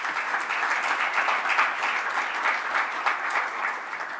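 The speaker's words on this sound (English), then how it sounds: "I would request all the audience to give her a warm welcome applause" An audience at an academic seminar gives steady, moderately loud applause that holds for a few seconds as a dense, even patter of many hands.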